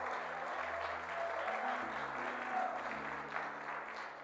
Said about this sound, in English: clap and give God the glory